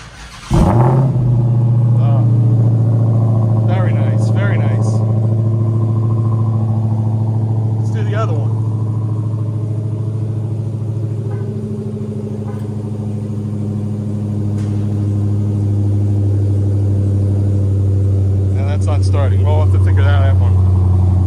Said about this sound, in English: So let's do smoke show cold start